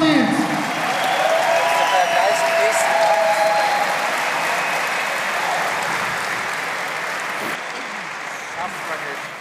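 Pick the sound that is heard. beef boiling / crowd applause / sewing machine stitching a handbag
crowd applause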